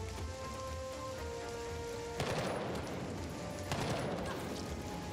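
Gunfire in the Jagged Alliance 3 tactics game: a dense, rain-like crackle of shots that keeps going throughout, with two sharper bursts standing out partway through and a steady hum underneath.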